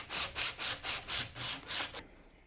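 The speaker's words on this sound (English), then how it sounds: "you take a strip of your sandpaper and just work it down" A strip of sandpaper is worked back and forth over a rollergun muzzle in about eight quick, even, rasping strokes, close and clear, ending in quiet.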